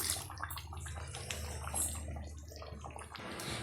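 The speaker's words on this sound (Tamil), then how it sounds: "இப்போ மிக்ஸி சாரை அலசிட்டு நான் தண்ணி ஆட் பண்ணிக்கிறேன்." Water running into a mixer grinder jar as it is rinsed in a kitchen, a close, steady splashing flow that continues without a break for several seconds.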